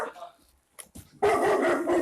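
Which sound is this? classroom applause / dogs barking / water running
dogs barking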